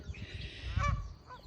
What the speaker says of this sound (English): There's our little duck pen. We raise pecking ducks.